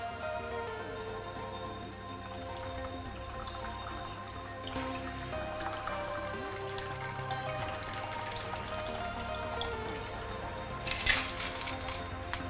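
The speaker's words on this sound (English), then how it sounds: "let's pour this Hokkaido in" Hokkaido milk tea made from powder being poured into a boba cup, a steady liquid trickle with light drips and clinks running throughout, close and fairly quiet, with a brief louder splash near the end.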